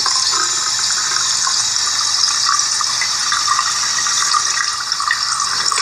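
Hot water gushing steadily from a tap into a basin, a loud, close, unbroken hiss and splash lasting throughout with no voices.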